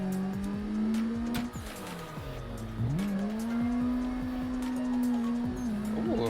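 Race car in the Assetto Corsa video game, with a loud, steady engine drone and sustained tire squeal as the car slides close to spinning out, pitch dipping and rising with the skid.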